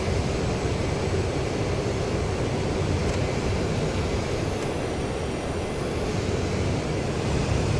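Jet engine roar of an AJS37 Viggen at 75% throttle in the DCS World flight simulator, a loud, dense, unbroken rush with a faint high whine on top, steady throughout with no voices.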